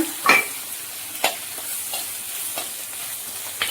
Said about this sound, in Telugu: బాగా ఫ్రై మంచి రెడ్ ఫ్రై అయితే ఎల్లిపాయలు టేస్ట్ బాగుంటాయి